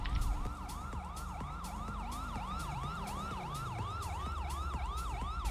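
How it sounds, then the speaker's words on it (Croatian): An ambulance siren wails loud and close in a steady, repeating rising-and-falling cycle, with a vehicle engine rumbling low beneath it throughout and no talking. "Hitna pomoć, mrtvo!"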